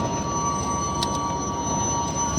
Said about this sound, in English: Nice trains right there.